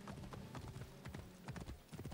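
Steady clip-clop of horse hooves in a video game, a quick rhythmic clatter that continues throughout at moderate volume.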